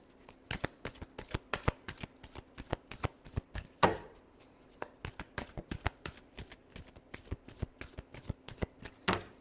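Tarot cards are shuffled by hand, giving a rapid series of crisp, close riffling flicks in uneven bursts with a brief louder riffle partway through and no talk.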